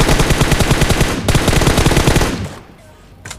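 Rapid automatic gunfire erupts in a BGMI battle royale team fight, a loud, dense machine-gun burst of evenly spaced shots lasting about two seconds, then fading into quieter distant shots.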